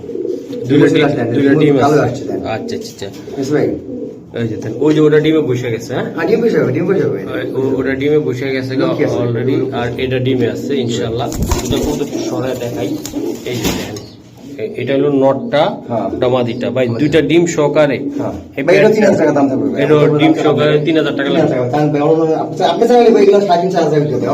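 Racer and Damascene pigeons coo in repeated soft, throaty rolls at close range, kept up almost without a break while someone talks over them loudly most of the time.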